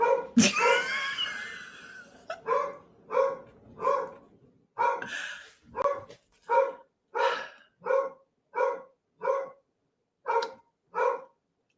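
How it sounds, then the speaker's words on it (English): A dog barks repeatedly at someone standing at the door, with about a dozen loud, evenly spaced barks close by after an initial burst of noise. "I think they're standing at the door and the dog is barking at them"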